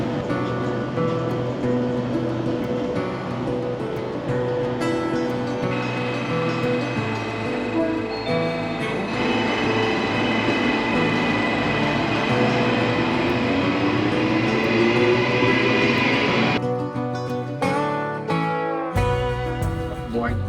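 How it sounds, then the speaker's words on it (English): A train ride out to the northern suburbs, a continuous loud mechanical rattle and clatter of the railcar with ratcheting, whining tones, steady throughout before a few abrupt shifts near the end. "then a train out to the northern suburbs"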